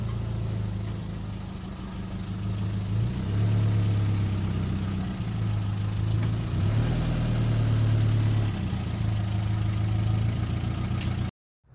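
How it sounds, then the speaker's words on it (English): A car engine idles after repair work, a steady low rumbling hum running evenly and close by for about eleven seconds before cutting off abruptly. "It starts and idles much better now."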